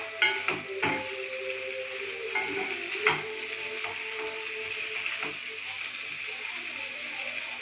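Fresh mint leaves sautéing in a pan with salt for chutney give a soft, steady sizzle with a few sharp clinks and scrapes of a spoon early on, close and moderate under a voice.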